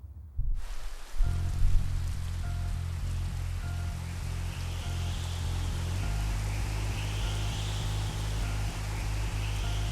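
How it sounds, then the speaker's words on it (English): Rain falls steadily in an anime scene, a dense even hiss that starts abruptly and holds throughout, with a low droning hum beneath it. "It starts raining after, you know, something bad happens."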